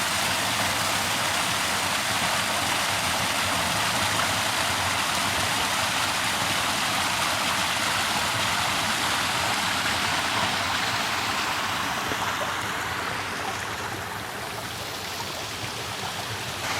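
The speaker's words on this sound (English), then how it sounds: "Might not be much of a waterfall here" A small forest stream with a modest waterfall on Cannock Chase makes a continuous close rushing and splashing that eases slightly near the end, with no talk.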